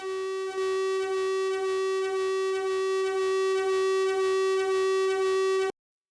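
A no-input mixing board produces a loud, steady distorted tone rich in harmonics, pulsing in an even rhythm from interference, then cutting off abruptly.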